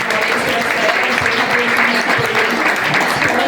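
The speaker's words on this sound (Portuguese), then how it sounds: "Uma salva de palmas, gente" Loud, sustained applause from an audience at a Brazilian panel event honoring a publishing group, dense steady clapping with a few voices mixed in.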